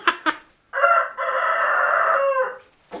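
A Leghorn rooster and a Sussex rooster crow loudly and close by, one long drawn-out crow dominating after short clucks, with another crow starting at the end.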